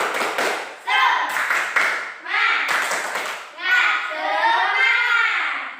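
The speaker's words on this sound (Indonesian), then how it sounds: "mari kita tepuk semangat terlebih dahulu. Tepuk semangat." A classroom of children claps out a rhythmic spirit-clap chant, with bursts of patterned clapping mixed with their chanting voices close by.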